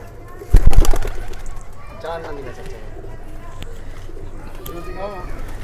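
Pigeons coo softly in a low, rolling murmur, with a sharp flurry of noise near the start and steady background hum throughout.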